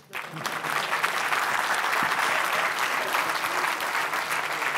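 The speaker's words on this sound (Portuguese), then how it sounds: "Então vamos lá bater palmas" Steady applause from an audience closing a technical talk's question session, starting abruptly and holding a dense, even roar of many hands throughout with no voices on top.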